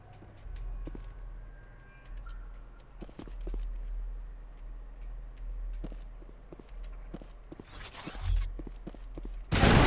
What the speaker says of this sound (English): Williams, who are you shooting at?